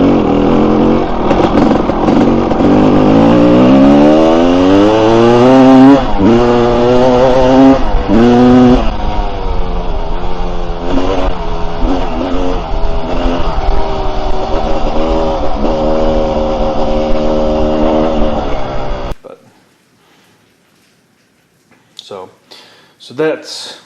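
A 1986 Maico 500 dirt bike engine runs loud and close, its pitch climbing and dropping through several revs before cutting off abruptly into near silence, followed by a few faint knocks.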